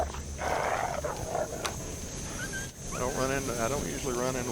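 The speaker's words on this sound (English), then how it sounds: "I don't usually run into wolves up here." Wolves in the survival game The Long Dark snarling and growling, rough guttural bursts followed by wavering whimpering howl-like cries, fairly close, with game ambience underneath.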